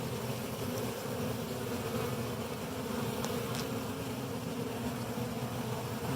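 A dense, steady hum of honeybees swarming around a Flow Hive, continuous buzzing heard outdoors without any talk.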